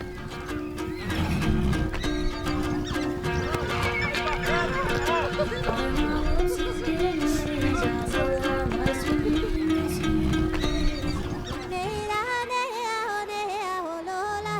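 Horses neigh and whinny repeatedly over the steady clip-clop of hooves on open Mongolian steppe, layered with background music and a faint voice.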